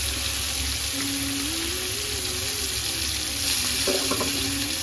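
Mint and coriander sautéing in a pan for mutton biryani, a loud continuous sizzling hiss with faint stirring sounds and a thin whining tone underneath, and no talk.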